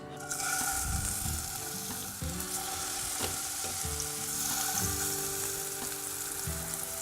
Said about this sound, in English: we're going to start adding our burger patties